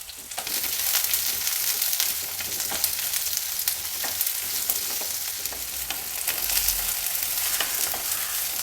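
Chopped onion frying in hot oil with popping mustard seeds and curry leaves for a bitter gourd dish, a steady close sizzle with crackles and occasional stirring scrapes, no voices.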